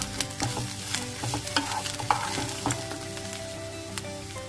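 Onions and crispy fried sweet corn sizzle in a hot pan while a spoon stirs them, close frying hiss with repeated scraping clinks, no voices.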